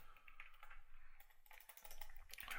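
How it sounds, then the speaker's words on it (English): Close computer keyboard typing: a quick, irregular run of soft key clicks and taps with brief pauses between bursts, quiet and on its own without speech. "going crazy, typing random things"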